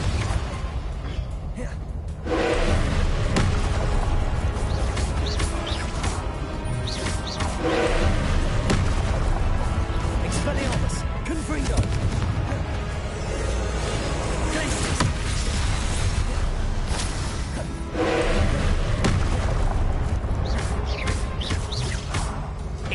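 Spells cast in the Hogwarts Legacy video game: a dense, continuous stream of whooshes, thuds and impacts layered over game noise, with a brief quieter gap near the start.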